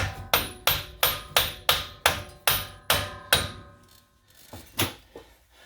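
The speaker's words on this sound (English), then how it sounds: "Yep, I was hammering." Steel hammer strikes the wheel hub of a 2006-2010 Ford Explorer during a front hub replacement, nine sharp evenly spaced taps ringing out close and loud, then a pause and two more scattered hits.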